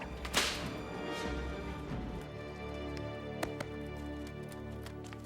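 In a dramatized French Bible reading, a single sharp slap cracks near the start, followed by a couple of faint smacks against a quiet ambient background.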